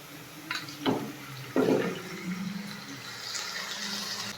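Cooked mutton and its own juices are tipped into frying masala for a Kerala-style mutton curry. Two quick wet splashes land close, then a low, steady sizzle continues.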